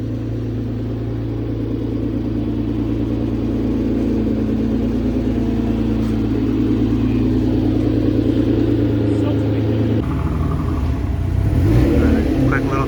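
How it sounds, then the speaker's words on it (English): A twin-turbo Nissan G35 with carbon fiber fenders drones steadily on a short test drive, its engine rumble loud and continuous from inside the car before shifting in tone near the end. "Quick little test drive to find out if he's going to have rubbing issues or not"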